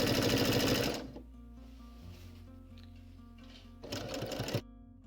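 A sewing machine stitches a foundation-pieced quilt block in a quick buzzing run, stops for a few seconds of near quiet, then whirs through a second shorter burst, close and moderately loud.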